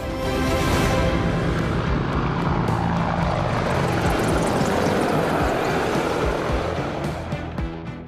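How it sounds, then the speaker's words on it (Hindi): A Republic Day flypast of one Light Combat Helicopter, two Apaches and two Advanced Light Helicopters, a loud continuous rotor and engine roar overhead that swells and then slowly fades, with no talk. "इसमें एक लाइट कॉम्बैट हेलीकॉप्टर, 2 अपाचे और 2 एडवांस्ड लाइट हेलीकॉप्टर जोश और जुनून को चरम पर ले जाएंगे।"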